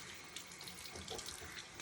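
Water runs steadily from a tap as it is added to a shaving brush to build lather, a brief, soft, continuous splashing hiss.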